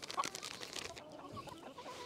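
Chickens cluck softly and steadily while feeding, with a few sharper calls over a low outdoor background and no speech.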